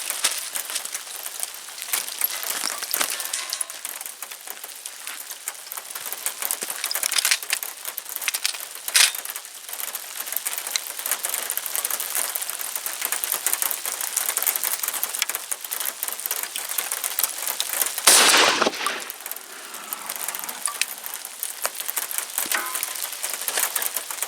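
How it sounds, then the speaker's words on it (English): Hail falls steadily outdoors, a dense, continuous patter of small ice pellets striking surfaces, with a brief louder burst of impacts near the end. "it's starting to hail on me"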